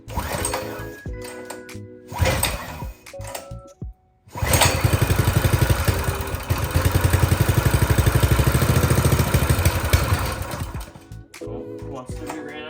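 A Predator 212 small engine on a Troy-Bilt Pony tiller is pulled over a few times with choke on, then catches and runs loud and steady with a busy, rapid chatter.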